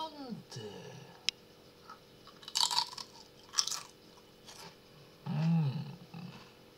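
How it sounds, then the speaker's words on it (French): Crunchy potato chips bitten and chewed in a few loud crisp bursts with gaps between them, while a person's voice is also heard. "une bonne chips. Croquante. Craquante. Croustillante."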